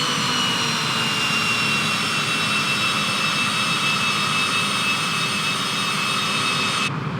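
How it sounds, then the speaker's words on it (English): Jet airliner engines roar as a steady, loud whine and rumble from inside the aircraft while the throttles are eased back, the tone holding nearly constant before cutting off at the end. "backing off the throttles again"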